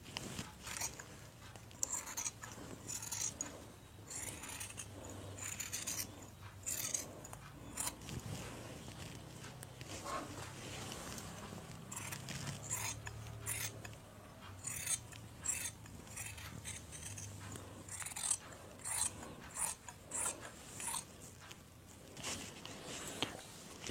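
Scissors cut fabric for a one-piece umbrella kurti with a faint, repeated crisp snipping and rasping, a close, quiet run of cuts spread across the stretch with no talk over it.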